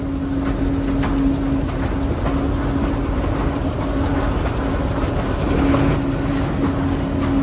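The Bhakra Railway train runs on the rails between Nangal and Bhakra Dam, a loud, steady rumble with rhythmic clickety-clack from the wheels and a faint tonal whine, heard close and without voices.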